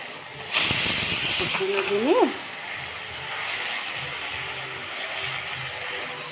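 Hing and spices hit hot oil with okra in a sudden loud hiss that sizzles for under two seconds, then fades to a quieter background simmer as a voice speaks.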